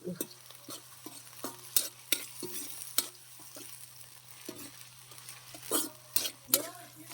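Onions and green chillies fry in a pan while a spoon stirs them, giving a soft steady sizzle broken by sharp scraping clicks against the pan, close up and moderately quiet.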